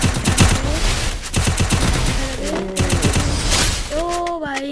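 Rapid bursts of automatic gunfire from a video game shootout, loud and clustered in quick volleys, with a voice speaking over the shots in between.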